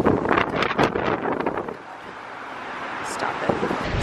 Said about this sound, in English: You guys, this is how windy it is.